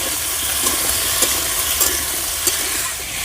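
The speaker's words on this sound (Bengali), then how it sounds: "একসঙ্গে আলু আর ওলকপিগুলো ভালো করে ভেজে নেব।" Cubed potatoes and kohlrabi fry with whole cumin in a pan for a village-style dish, giving a loud, constant sizzle with occasional scrapes and stirring knocks close up.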